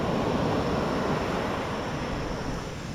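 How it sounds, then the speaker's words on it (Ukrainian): Sea waves wash onto the shore at Phi Phi Island in Thailand, a loud, continuous rushing surf mixed with gusty wind buffeting the microphone, easing slightly toward the end, with no voices. "Дивіться, які хвилі."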